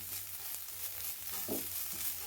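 Spinach cooks down in a pan as its water evaporates, giving a soft continuous sizzle with a brief stirring scrape, close but fairly quiet.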